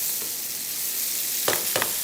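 Tomatoes sizzling steadily in a hot pan, with a couple of brief scraping stirs near the end.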